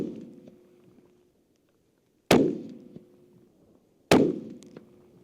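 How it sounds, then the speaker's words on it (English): Custom 7PRC hunting rifle firing Hornady 175 grain ELDX hand loads at 100 yards, two sharp loud shots about two seconds apart, each ringing off briefly, with a fading tail at the start. "we're just gonna do a 3-shot group at 100 yards"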